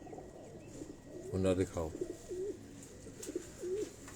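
Pigeons on a rooftop coo in soft repeated throaty calls, heard close while someone speaks briefly over them.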